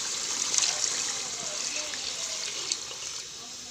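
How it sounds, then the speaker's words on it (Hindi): Water pours steadily in a bright, hissing stream into a karahi of potato curry, with a few faint splashes and soft clinks along the way. "अब हम इसमें पानी डालते हैं"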